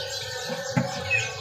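A white-rumped shama chirps briefly in a few short calls over a busy background hum, fairly close and moderately loud.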